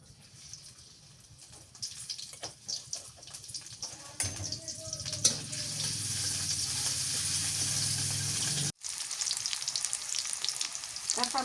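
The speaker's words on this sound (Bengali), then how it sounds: "সর্ষের তেল দিয়ে দিই পেঁয়াজ দিয়ে দিলাম" Onion drops into hot mustard oil after a few quiet kitchen clinks, setting off a loud, dense sizzle. The sizzle carries on with stirring scrapes and briefly cuts out before resuming.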